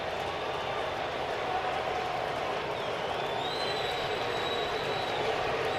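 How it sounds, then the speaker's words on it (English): Stadium crowd at a Padres at Mariners baseball game rising to its feet, a steady, dense roar of cheering and murmur that holds evenly throughout, with a faint whistle-like tone drifting above it midway. "Crowd on its feet."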